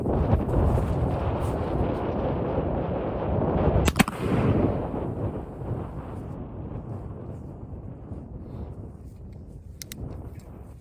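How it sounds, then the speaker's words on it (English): Gunshot from a percussion-cap gun loaded with homemade black powder using pine charcoal, fired outdoors; one sharp crack stands out over steady wind noise, followed by a fading rumble. "Here's testing homemade black powder. This is made with pine for the charcoal. Homemade percussion cap on it."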